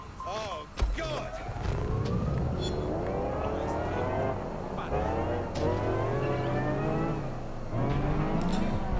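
Futuristic car engines in the game Watch Dogs Legion, a steady rising whine with revving pitch sweeps and siren-like wails, heard close and continuous with brief talk early on.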